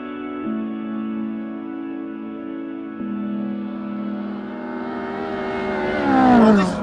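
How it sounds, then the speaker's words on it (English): Sports car engine pulling hard in fourth gear, a sustained rising engine note climbing steadily in pitch for several seconds, building louder toward a high peak at the end, heard from inside the cabin. "This is now fourth gear. Look how long this lasts in fourth gear."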